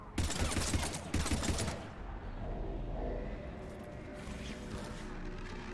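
Rapid automatic gunfire in Mass Effect 3 bursts out in dense volleys for the first couple of seconds, then gives way to lower rumbling combat noise and scattered mechanical clatter.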